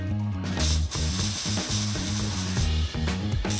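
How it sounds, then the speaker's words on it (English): A ratchet strap is cranked tight around a high-pinion Dana 60 axle in rapid bursts of metallic clicking, close and distinct, with short pauses between strokes. "I did the old ratchet strap around the thing and it closed that gap right on up"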